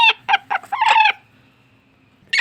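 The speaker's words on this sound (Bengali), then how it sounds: "এটা দেশি মুরগি, গলা কাটা মুরগি বলে" Native naked-neck hens cluck close by in a quick series of loud, clipped calls, followed by a drawn-out note, a quiet pause, and another burst at the end.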